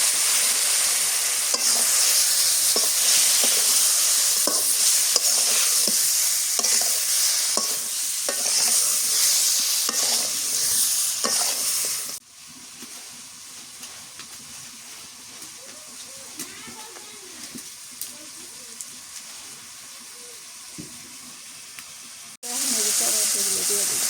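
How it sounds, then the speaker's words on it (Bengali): Prawns sizzling and hissing loudly as they fry and are stirred in a pan, a steady bright crackle with scraping strokes, then a quieter stretch before the sizzle returns. "চিংড়ি মাছগুলো দিয়ে দিই"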